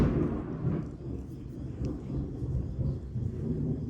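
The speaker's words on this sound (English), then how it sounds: "I think there's lightning nearby." A deep rolling rumble of thunder from nearby lightning, sustained and heavy throughout, low and fairly loud with no other clear sounds.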